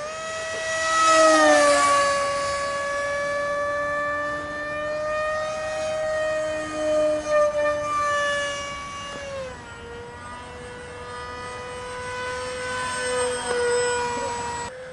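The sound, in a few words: foam RC F-18 jet model flying, air through intakes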